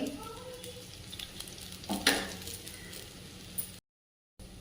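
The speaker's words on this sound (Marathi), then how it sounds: "आपण हे वड्या सगळ्या शालो फ्राय करतोय" Drumstick leaf and coriander dumplings shallow-frying in oil, with a soft, low sizzle and a few light clinks and stirring scrapes, fairly quiet throughout before a brief dropout near the end.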